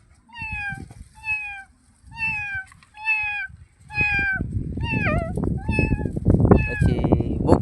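A person imitates a cat, giving about eight drawn-out, pitch-bending meows in a steady series. The voice is loud and close, with rising background murmur in the second half.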